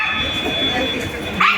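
A stray dog in a town gives short yelps and whimpers, with a sharper, louder bark near the end over a steady background hum.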